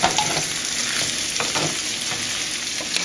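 Potatoes that are turning tender fry in a pan as they are stirred around, a steady close sizzle with scattered scraping taps from the utensil and no talking.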